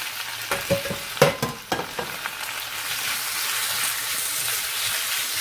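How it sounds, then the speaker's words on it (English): Chicken and shallots sizzle and crackle steadily in a hot pan, with a few sharp clanks and scrapes of utensils early on before settling into a constant fry. "And hear the nice sizzle on that."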